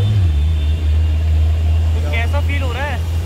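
A TVS Apache RTR 160 4V motorcycle rides along with a steady low engine drone, while a person talks over it near the end.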